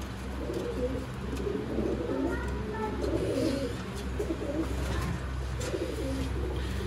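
Golden pigeons kept for sale in Sialkot coo in soft, repeated low calls, several birds close by, with a faint voice murmuring underneath.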